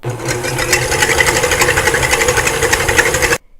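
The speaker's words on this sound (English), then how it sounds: "I have the whisk attachment on my mixer here. I'm going to put this on high speed until it starts to foam" A stand mixer with a whisk attachment runs steadily on high speed, whipping egg whites for lemon macarons; a continuous loud motor whir with a rhythmic beating texture, close by, cutting off abruptly at the end.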